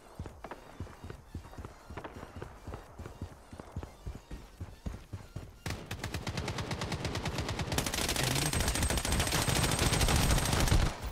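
Gunfire in the mobile shooter game Blood Strike: single shots at first, then dense rapid automatic bursts building into sustained loud firing, with faint background game sounds and no voices over it.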